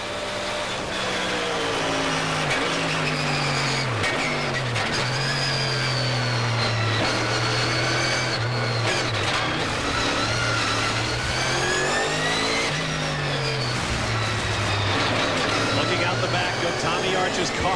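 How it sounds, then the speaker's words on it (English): A Chevy Camaro Trans Am race car at the 1992 Long Beach street race roars loudly and close, its engine pitch repeatedly climbing and dropping through gear changes and braking, with a commentator talking over it. "Tommy Archer's car, the slip-sliding Chevy Camaro."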